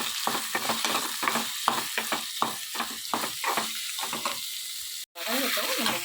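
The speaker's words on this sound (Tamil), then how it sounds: "இதை வந்து நல்லா வதக்கிக்கலாம்." Seasoning for kuzhi paniyaram, made from idli batter, sautés in a pan, rhythmic close spatula strokes over a constant sizzle, then a brief cut and the frying resumes louder and busier.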